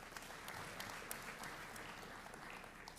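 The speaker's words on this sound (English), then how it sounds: "So let's give another round of applause for everybody on stage as well as our guests." Quiet, distant applause from the audience at a college convocation ceremony, a continuous soft patter of many hands clapping at once.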